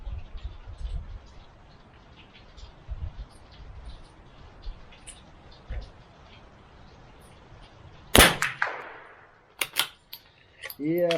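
A CZ 457 MTR .22LR bolt-action target rifle firing Eley Match ammunition gives a few sharp, fairly quiet cracks near the end, with bolt clicks and low background noise between them.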